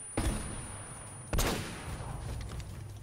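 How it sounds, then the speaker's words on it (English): Enemy gunfire in the video game Uncharted: Drake's Fortune, with two sharp loud blasts near the start and middle followed by a dense rumbling burst of fire and echo, no talking. "He's shooting, like, right at me."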